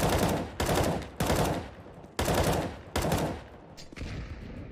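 Loud bursts of automatic gunfire in the video game CS:GO, about five sustained volleys in quick succession, each cutting off sharply before the next.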